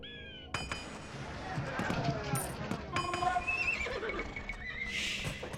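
Horses neigh several times in the strategy game Age of Empires 2 during a Teutons mirror match on Arabia. The whinnies come with clip-clop hooves and clinking battle sounds, and a voice talks underneath.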